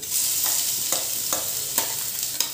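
Garlic, green chili and ginger paste fries in hot oil for a potato curry, giving a bright, steady sizzle broken by a few sharp stirring scrapes, close and fairly loud, with no voices.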